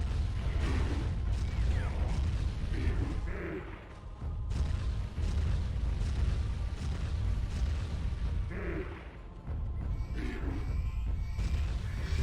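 Explosions from Turok 2 video game gunfire demolish village homes, a dense rumbling roar of booms and blasts running nearly continuously at full loudness, with brief dips between bursts.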